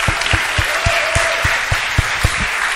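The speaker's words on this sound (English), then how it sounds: "big applause for Gonçalo Hall" Applause from a festival audience rises after an introduction, dense steady clapping with a few louder individual claps sounding close to the microphone.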